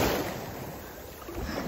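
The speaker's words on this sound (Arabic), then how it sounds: "ها هو البحر" Sea waves at a beach give a continuous, broad wash of surf, noisy and fairly loud, with wind rushing over the microphone and no talk.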